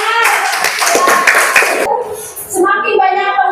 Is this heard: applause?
yes